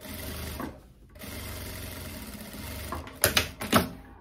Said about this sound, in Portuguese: Agora, eu vou fazer um pesponto aqui do avesso.